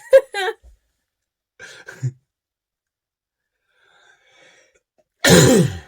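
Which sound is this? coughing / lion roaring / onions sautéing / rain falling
coughing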